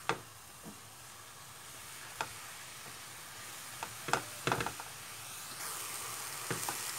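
Apple filling for apple cookies cooks in a pan, giving a soft, steady sizzle with a few sharp clicks and scrapes as it is tossed and stirred, and no talking.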